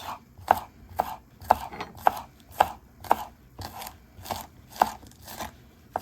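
Knife chopping green onions on a cutting board for an egg-drop style soup, about a dozen crisp, evenly spaced chops close up, with no talking.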